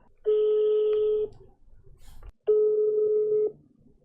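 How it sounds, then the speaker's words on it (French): A landline telephone sounds two long, steady tones separated by a short gap, loud and close, with faint background noise and no talking. "je vais l'appeler maintenant"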